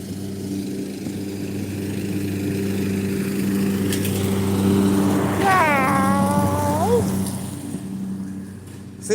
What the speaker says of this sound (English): Everyone's mowing out here.